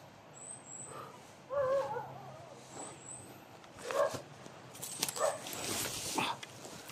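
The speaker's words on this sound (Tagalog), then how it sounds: "May aso." A dog yips and whimpers a few times at some distance, short sharp calls over background noise and rustling.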